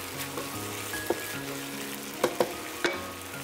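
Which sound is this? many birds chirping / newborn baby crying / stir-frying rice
stir-frying rice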